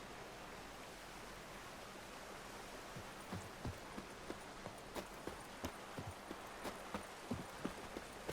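Hooves clip-clop in a steady trotting rhythm in the video game Witcher 3, starting faint and growing more distinct, over a soft rushing background like flowing water.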